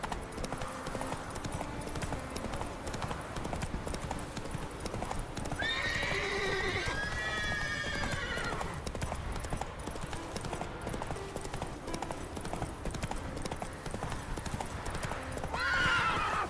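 A horse galloping in The Witcher 3 video game, with steady rapid clip-clop hoofbeats throughout and two neighing whinnies over the running hooves.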